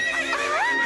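A plastic toy racehorse gives a loud, close horse whinny, one quivering neigh rising and falling in pitch over less than a second, with no talk over it.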